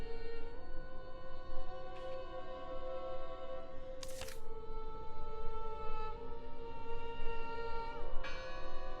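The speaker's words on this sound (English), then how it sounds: "Listen! The bell!" A church bell tolls in the eerie fjord-village game Draugen, its steady harmonic strikes ringing over a low background hum, with a few sharper clanks between the tones.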